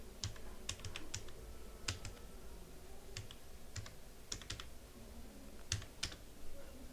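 Quiet keystrokes on a computer keyboard while a short description is typed, coming in irregular quick bursts of clicks with brief pauses, close by and faint against a low background hiss.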